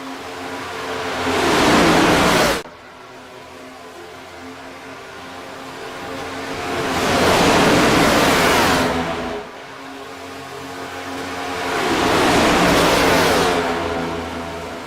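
Race cars in a Next Gen superspeedway racing video game, three loud passes sweeping by one after another, each swelling and fading with a steady engine drone between.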